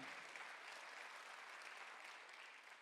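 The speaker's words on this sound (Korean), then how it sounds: "박수 한번 주세요." A congregation applauds during a Sunday afternoon church service, dense steady clapping that fills the whole stretch at a moderate, fairly distant level and tapers slightly at the end.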